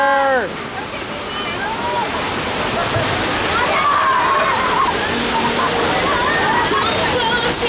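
Water crashes and sloshes over riders on a theme park water ride at Universal Studios Hollywood, a loud rushing splash sustained for several seconds, with riders' voices and a brief shout over it.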